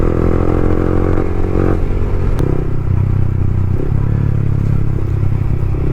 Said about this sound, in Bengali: ভাই সাউন্ড তো হচ্ছে, আমি ভাই হেলমেট বন্ধ করে দিয়ে বাইক চালাচ্ছি ভাই,